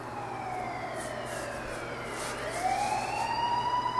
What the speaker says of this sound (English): Oh, you hear them sirens